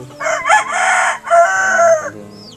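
A rooster crows loudly and close by in two long drawn-out phrases, with faint clucking from other hens in the background.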